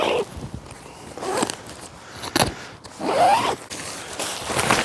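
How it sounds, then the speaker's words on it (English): A zipper on a hot tent door is pulled in several quick rasping strokes, close and fairly loud, with short pauses and some rustling of fabric between pulls. "You got another zip here to get in and out of the tent."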